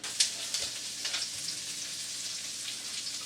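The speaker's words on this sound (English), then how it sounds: "I'm going to start dumping stuff and sauteing stuff" Onion and sausage for jambalaya sizzle steadily in a hot pan on the stove, a dense, even frying crackle with a few sharper pops near the start, close and continuous with no talk.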